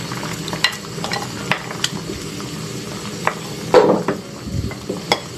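Eggplant and squash frying in a pan for a Bisaya vegetable dish, a soft steady sizzle with scattered clicks and scrapes of a utensil stirring.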